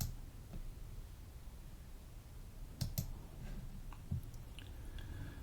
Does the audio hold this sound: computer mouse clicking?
yes